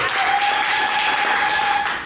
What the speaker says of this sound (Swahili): Pigie Mungu makofi.